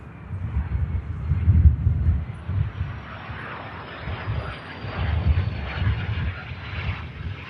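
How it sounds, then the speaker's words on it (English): A Cessna Citation business jet arrives at Manchester Airport with a steady, broad engine roar that swells and eases as it passes, fairly loud and continuous with some wind buffeting. "Next in, Silver Cloud Air, in from Kiruna. Cessna citation."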